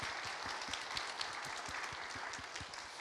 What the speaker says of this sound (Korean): 우리 두 분 교수님께 다시 한번 박수로 또 응원해주시고 함께해 주시기 바랍니다